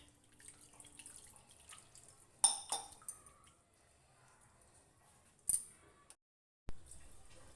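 Fresh chhena (paneer curds) is rinsed in water by hand: soft splashes and trickling, with a few sharper clinks of a bowl, then a short pause and one more splash.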